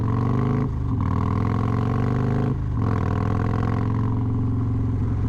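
A motorcycle on new tires cruises along a road mixing curves and straights, its engine droning loud and steady with a strong rumbling tone that dips briefly twice as the throttle eases, with no voices.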